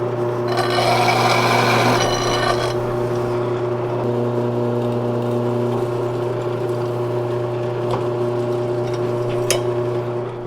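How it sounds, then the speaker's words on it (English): Harsh metal grinding on a truck cab mount in a workshop runs continuously with a steady motor hum underneath, loudest in the first few seconds, with faint clanks later on. "Dad's grinding on the other one."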